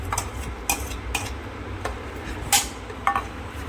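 Custard powder mixed with Amul milk being stirred in a pot: a spoon scraping with light, irregular clinks against the vessel, close and moderately loud.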